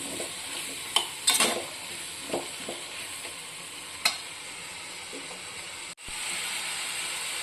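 Potatoes cooking in a pan for a chicken cocktail sausage curry, with a steady soft hiss and a few scattered clicks and scrapes of stirring, close by and fairly quiet, with no voices.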